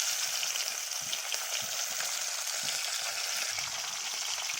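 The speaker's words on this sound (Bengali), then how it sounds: "মাছ ভাজা হচ্ছে, আবার একটা মাছ ছাড়লাম।" Halua fish pieces frying in hot oil in a kadai produce a loud, continuous sizzle with fine crackling and popping close by, and no voices.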